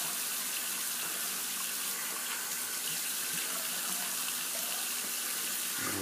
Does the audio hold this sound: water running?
yes